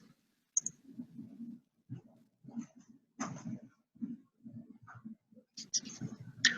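Computer mouse clicking in short quiet taps, a scattered run of small clicks spread irregularly across the moment, close and soft with nothing else around.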